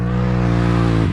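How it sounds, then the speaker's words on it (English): A Can-Am Renegade 1000 ATV engine drones loud and close on a short practice course, a steady harmonic engine note held for about a second with no talk. "He's out there doing some practice laps around the short course right now."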